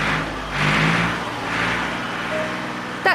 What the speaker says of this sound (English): That's Simon on his tractor.